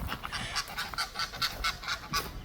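Geese at a zoo aviary that also holds ducks and flamingos honk repeatedly in quick, rhythmic bursts, fairly close and loud, with no talking.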